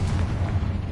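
A Confringo spell explodes in Hogwarts Legacy, a short, dense, low rumbling boom that stays steady and loud for about a second with no talk.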